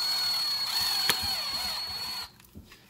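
A power drill whirs steadily as it drives screws while installing a speaker in a 2015 Subaru WRX, with a faint ratcheting click, then the motor cuts off into near quiet.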